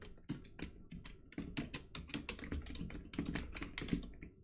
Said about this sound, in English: I can type these things now.